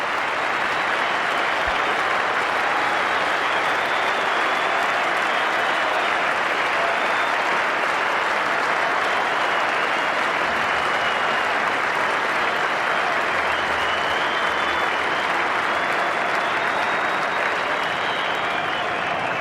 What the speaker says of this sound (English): that terrific reception from this good crowd in at the Adelaide Oval